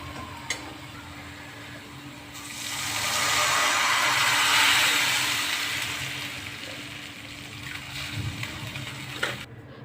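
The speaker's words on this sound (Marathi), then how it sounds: "आता आपण याच्यात पाणी टाकून घेऊया" Water poured into hot tempering for pithla, a rushing gush that swells for a few seconds then settles into a sizzling bubble, with a few utensil clinks, close up.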